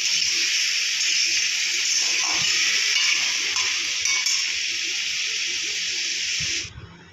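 Prawns frying in a pan for a Bengali prawn curry with potatoes, giving a loud, steady broadband sizzle that holds without a break for several seconds before cutting off abruptly near the end.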